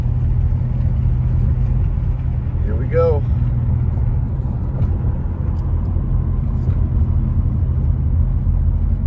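A car drives slowly through heavy traffic on snowy mountain roads around Big Bear Lake, its steady low engine and road rumble filling the scene while someone speaks briefly over it.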